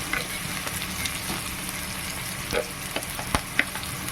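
Chopped onion and leftover cooked rice for upma sizzle steadily in a hot pan while a spatula stirs and scrapes, giving a constant frying hiss broken by occasional clicks and taps.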